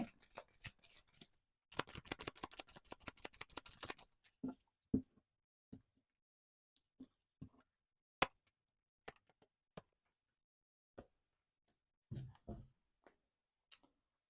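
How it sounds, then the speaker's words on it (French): Tarot cards being shuffled in a quiet room: a dense riffling burst of rapid card flicks, then scattered soft taps and slaps as single cards are drawn and laid down, with long silent gaps between. "On va continuer avec le quatrième tirage de tarot."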